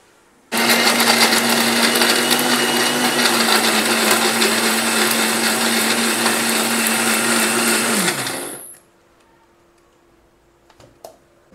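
Mixer grinder blending onion, coconut, coriander, garlic, ginger and tomato into a paste, a loud steady whirring drone for about eight seconds before winding down and stopping, followed by a few faint clicks.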